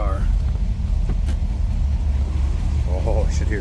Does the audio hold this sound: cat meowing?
no